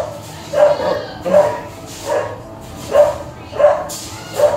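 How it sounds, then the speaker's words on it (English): Dogs barking in the horror video game Eggs For Bart, a loud, evenly spaced series of about six woofs repeating roughly every seven tenths of a second. "The dogs are barking in the background again."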